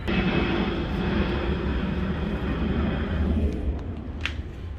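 An airplane flies overhead during outdoor car work, a steady loud engine roar covering the whole stretch and easing slightly near the end.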